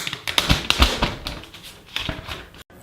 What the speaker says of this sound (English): My favorite part of any new device is of course taking off the plastic.